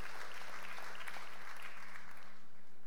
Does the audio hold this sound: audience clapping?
yes